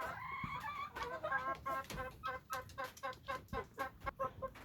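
Chickens on a mountain farm cluck repeatedly at close range, a busy run of short calls with a brief crow-like note early on, no talking.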